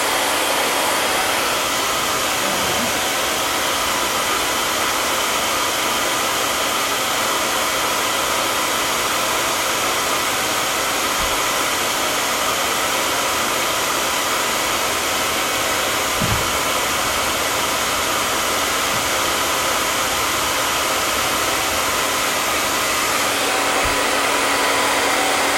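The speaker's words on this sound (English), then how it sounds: "Gotta have my blow dryer ready too." A blow dryer running continuously while a glueless wig is being installed, a loud, steady, close-up whoosh that holds for the whole stretch with no talking over it.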